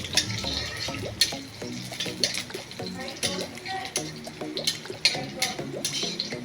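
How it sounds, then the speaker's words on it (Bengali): Three green chillies and eight garlic cloves fry in a kadai with a steady close sizzle, while a utensil scrapes and clatters against the pan in frequent irregular stirs. "তার জন্য কড়াতে 3টে কাঁচা লঙ্কা দিয়েছি আর 8টা রসুন দিয়েছি।"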